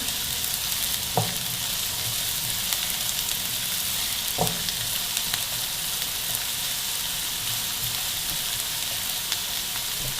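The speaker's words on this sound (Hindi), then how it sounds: "प्याज को थोड़ा सौते करके" Onions sautéing in a pan for chicken cheese buns, a steady close sizzle and crackle throughout with a few soft stirring clicks, no talking.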